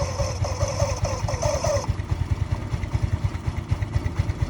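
A repaired motorcycle engine idles after being brought back to life, putting out a steady, fast low-pitched thumping pulse, with a brief high whine over it during the first couple of seconds.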